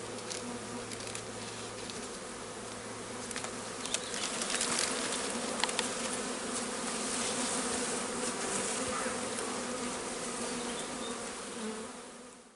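Dense, steady buzzing of a swarm of honey bees around their hives, close and loud, holding without pause for the whole stretch before fading off at the end.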